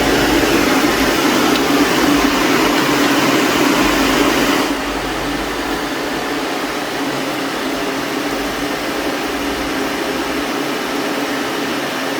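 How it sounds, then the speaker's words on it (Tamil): A van's air conditioning blower fan runs continuously with a steady whooshing hum, dropping to a slightly quieter, lower setting partway through and staying even after. "இப்போ இந்த ப்ளோவரும் வேலை செய்யுது"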